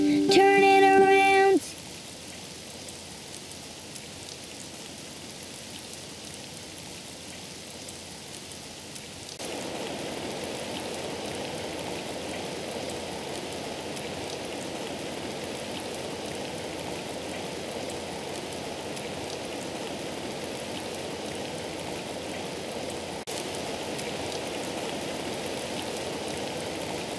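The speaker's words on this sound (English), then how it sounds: "Oh, it's raining outside." Steady rain falls outside, a soft continuous hiss of drops that thickens partway through and stays even until the end, preceded by a brief burst of music at the very start.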